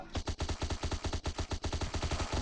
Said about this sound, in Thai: แล้วก็ยิงเพลินๆเลยครับ